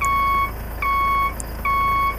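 A truck backs up in a zombie-mode game, giving a steady reversing alarm of three long, evenly spaced electronic beeps over a low engine hum.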